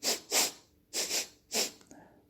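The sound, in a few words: sniffing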